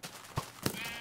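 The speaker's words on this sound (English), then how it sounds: "That's a sheep." A sheep bleats in the Minecraft video game, two short bursts of bleating about a quarter second apart, moderately close and alone with no talk.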